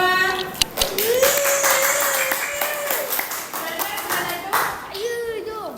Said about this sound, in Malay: pandai tepuk tangan semua